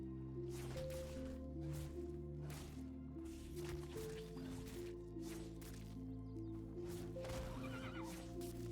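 A horse mount in the video game Ashes of Creation gives repeated whinnies and neighs over a sustained musical backdrop, with hoof clip-clops and sharp bursts of game effects scattered through.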